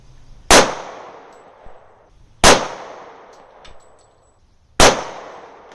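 Three sharp, loud gunshots fired at a shooting range target, evenly spaced a couple of seconds apart, each with a quick decaying ring and echo.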